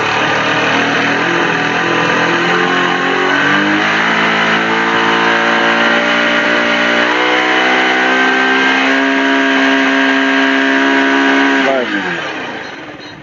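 A Bajaj Pulsar 220 motorcycle engine is held at steady revs, its pitch climbing gradually in a loud continuous whine before dropping sharply near the end as the throttle is released.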